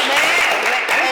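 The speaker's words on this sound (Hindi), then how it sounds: "तालियां हो जाए" A brief burst of applause in a talk-show studio, a short, dense patter of clapping that blends with voices.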